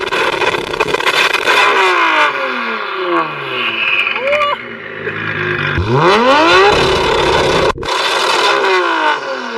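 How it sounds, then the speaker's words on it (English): A loud Nissan GT-R roars past at the roadside, its engine note sweeping down in pitch as it passes. A second pass follows with a rising-then-falling howl, close and dominant throughout. "Are you guys ready to hear a loud engine?"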